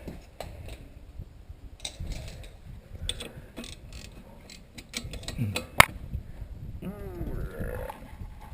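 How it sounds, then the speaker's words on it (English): Socket wrench with a 7/8 socket working on the front brakes of a 2004 Nissan Altima: irregular ratcheting clicks and metallic clanks close by, with a sharp clack near the middle and scraping toward the end. "I'm using a 7/8 socket in order to get my rotor and all that off."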